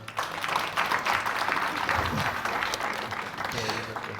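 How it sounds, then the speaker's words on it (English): A conference audience at a national gathering in Adelaide applauds an honoured guest, with sustained clapping that swells and stays steady while voices talk over it. "can we please have a hand of applause for the honorable man?"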